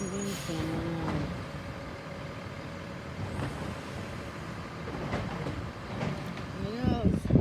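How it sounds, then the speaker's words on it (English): A garbage truck arriving on trash collection day, a continuous low engine rumble with brief hissing and whining bursts that swells toward the end, as people talk nearby. "Here's the garbage truck right now."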